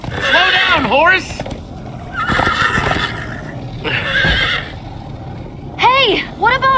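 Horses in Minecraft: Story Mode neigh and whinny in several loud bursts while characters shout over rushing, rumbling motion noise.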